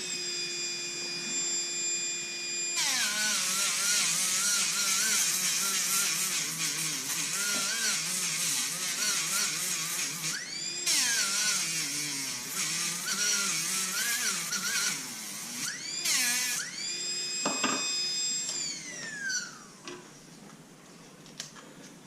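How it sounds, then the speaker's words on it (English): Sterling silver ring being worked with a 180 grit abrasive on a high-speed rotary tool, a bright whining hum that bends in pitch under load, stopping and restarting several times, close up with no speech. "I'm going to work on it a little bit with this 180 grit, see if that will work on it"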